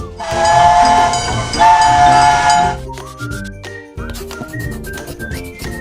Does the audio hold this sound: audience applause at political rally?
no